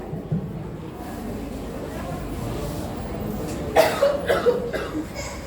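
A sharp cough rings out midway, followed by a few smaller coughs over low background murmur.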